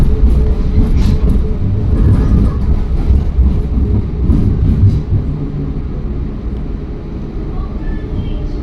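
Passenger train rolling across the river in Portland, Oregon, heard from inside as a loud, continuous low rumble and rattle that eases slightly toward the end.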